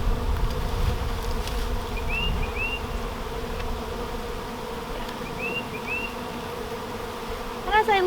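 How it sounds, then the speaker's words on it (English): Honey bees buzz in a steady, dense drone in front of a beehive during a spring hive inspection, with a few brief bird chirps faintly above the hum. "Lots of bees out here in front."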